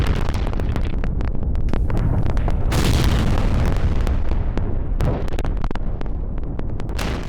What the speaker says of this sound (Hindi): ईरानी मिसाइल से जोरदार धमाका हुआ